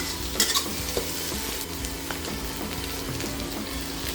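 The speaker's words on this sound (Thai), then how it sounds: "ตัวกุ้งเนี่ยเราจะผัดไม่นานนะ" Shrimp stir-frying in a hot pan for a basil shrimp dish: continuous close sizzle with scattered spatula scrapes and light clinks, no voices.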